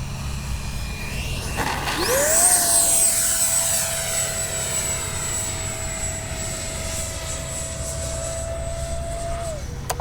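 A Freewing 70mm F9F-5 Panther RC jet passes with a loud, steady electric ducted-fan whine that rises sharply as it sweeps by and then holds an even drone.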